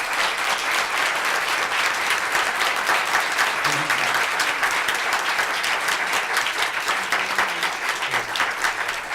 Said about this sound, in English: So please give this panel a big round of applause.